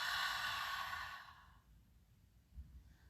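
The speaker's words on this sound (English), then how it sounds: "Exhale it out." During a guided breathing exercise in a full moon circle, a single long, soft exhale through an open mouth fades away over about a second and a half, followed by quiet room tone.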